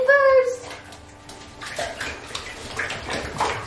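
Water runs steadily into a tub while rescue puppies get their first bath, a close, constant splashing rush, with someone talking and a brief high puppy whine at the start.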